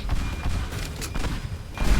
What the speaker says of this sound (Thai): ปืนกลนี่ไงมินิกัน